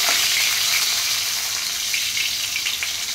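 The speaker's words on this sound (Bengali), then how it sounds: "এবার আলুটাকে একটু ভেজে নেব" Potato frying in oil over lowered gas makes a continuous loud, hissing sizzle close by, with small popping crackles scattered through it.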